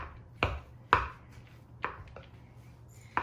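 A utensil mixes cheese into twice-baked potato filling in a dish, giving four or five sharp, separate knocks and taps against the bowl over a quiet background.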